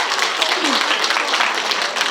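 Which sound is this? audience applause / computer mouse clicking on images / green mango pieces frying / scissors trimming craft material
audience applause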